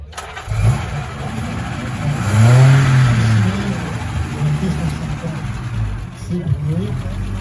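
A classic Delahaye car at a concours d'élégance in Biarritz starts up, then its engine revs and settles into a steady, close, loud idle while someone talks over it.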